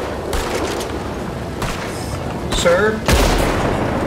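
Gunfire from a player shooting during a Red Dead Redemption 2 carriage robbery, loud booming shots cutting in and out over a steady noisy background, with a brief spoken word.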